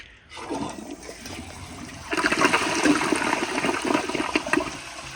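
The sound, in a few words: Kohler Highline round toilet flushing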